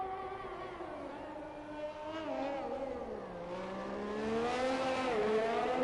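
An Alfa Romeo Formula 1 car on a hot lap at Abu Dhabi in F1 21 on PlayStation 5, its engine whining steadily and pitching up and down through gear changes and corners, rising in revs toward the end.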